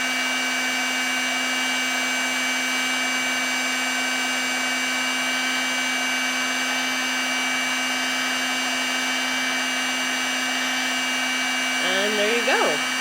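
A heat gun blows a steady, loud whir with a constant tone while it shrinks heat-shrink tubing over the end cap of an LED neon light bar. A brief voice comes in near the end.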